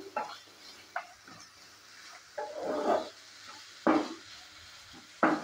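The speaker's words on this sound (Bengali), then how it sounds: "এটাকে কিছুক্ষণ সময় নিয়ে ভালো করে পেঁয়াজ, রসুন আর আদা ভেজে নেব" Onion, garlic and ginger frying in a pan for an aloo palak sabzi, with soft sizzling broken by repeated scraping stirs of a spoon against the pan, close and moderately quiet.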